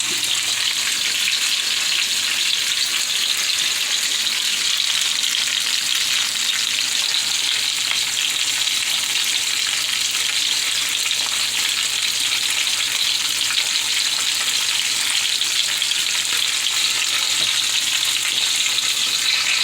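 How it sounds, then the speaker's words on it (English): Salmon patties fry in a hot skillet, giving a steady, dense, close sizzle that holds evenly throughout with no pauses. "And my salmon croquettes are cooking."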